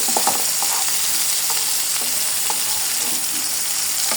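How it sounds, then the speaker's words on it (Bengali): Prawns frying with turmeric and salt for a okra and prawn chorchori, a dense continuous sizzle with light stirring taps and scrapes scattered through, close and fairly loud, no talking. "চিংড়ি মাছগুলোকে আমি হলুদ লবণ দিয়ে একটু ভেজে নিচ্ছি"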